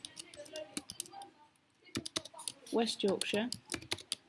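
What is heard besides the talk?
typing on a computer keyboard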